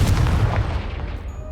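A Confringo blasting spell goes off in Hogwarts Legacy, a loud, deep booming explosion with heavy low rumble that fades gradually over about a second and a half.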